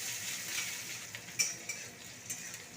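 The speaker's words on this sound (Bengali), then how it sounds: "পেঁয়াজটা হালকা একটু নেড়ে দেবো।" Chopped onions with dried red chilies and five-spice frying in hot mustard oil, a soft continuous sizzle broken by light scraping stirs of a spatula in the pan, with no talking.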